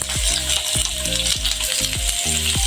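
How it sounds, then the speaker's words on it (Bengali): Chopped onion sizzles steadily in hot oil for an egg curry, with a bright continuous frying hiss and a spoon or spatula knocking the pan at a regular rhythm, close and fairly loud, no talking. "প্রথমত আমি পেঁয়াজ কুচিটা দিয়ে দিচ্ছি"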